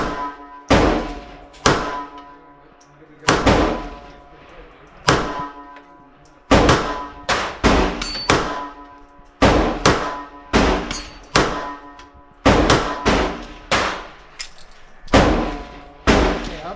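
Glock G28 pistol firing a string of sharp, loud shots at an uneven pace, each a hard crack with a short ringing tail, about a dozen rounds spread across the stretch with brief pauses between groups.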